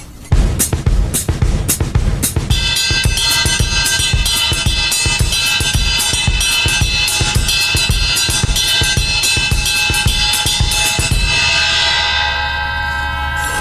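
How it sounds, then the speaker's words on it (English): Close, loud samba pattern tapped on the bell of a ride cymbal, its bright ringing tone building and sustaining over a continuous kick drum and hi-hat foot pattern, with the kit dropping out near the end and the bell's ring fading. "let's come over here to the bell of the right cymbal and play a pattern like this."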